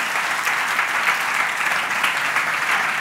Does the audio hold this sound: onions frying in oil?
no